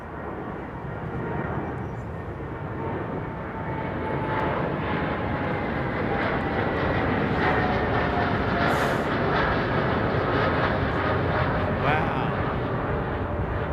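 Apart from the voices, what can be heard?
Boeing 787 Dreamliner aircraft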